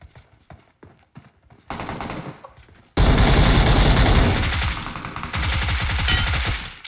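Gunfire in PUBG Mobile: a few sharp single shots, then a sustained loud burst of rapid automatic fire that dominates the scene and continues with repeated volleys, with no talk over it.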